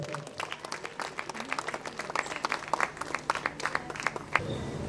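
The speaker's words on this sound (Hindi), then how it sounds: "जोरदार तालियों के साथ स्वागत कीजिए" An audience at a Christmas gathering and annual program welcomes a speaker with lively applause, a dense patter of claps rising and falling in quick irregular bursts, fairly close and continuous with no talk over it.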